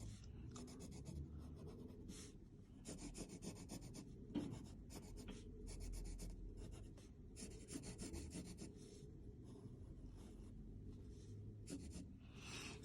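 A pencil's dark side scrapes across paper in repeated short bursts of shading strokes, a soft, close, rhythmic rasp with no talking.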